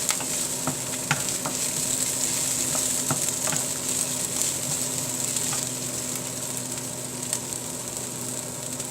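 Chopped onions fry in a pan for a South Indian dish, a steady soft sizzle with scattered clicks as they are stirred, and no one speaking.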